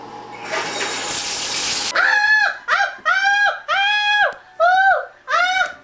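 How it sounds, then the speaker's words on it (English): Shower water runs in a loud, hissing rush for about two seconds, then cuts off and gives way to a series of loud, honking, voice-like calls. "I'm going to take my shower now"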